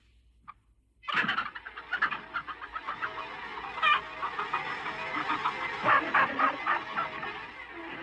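Farm hens cluck in a busy, overlapping chorus of short repeated calls that start abruptly after a brief quiet moment and continue at moderate loudness throughout.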